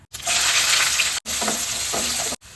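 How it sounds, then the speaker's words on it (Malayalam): Mustard seeds fry in hot coconut oil for a sambar, a dense close crackling sizzle broken by two abrupt cuts into three bursts, with no talk. "ഇനി കടുക് വറക്കാം."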